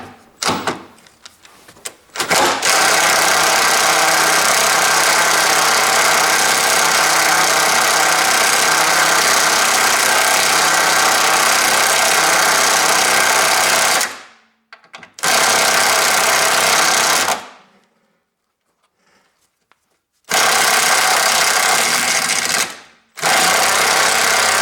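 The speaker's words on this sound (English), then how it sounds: "then I use my electric impact driver also" An electric impact driver works on a Toyota Corolla during a damper replacement, with long loud continuous whirring runs broken by a few short pauses and one longer silence, and no talking.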